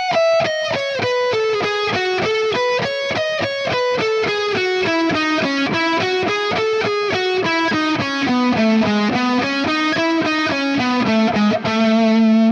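Distorted electric guitar plays a fast descending shred lick, a rapid steady stream of picked notes walking down two strings and resolving on a sustained low note, loud and alone.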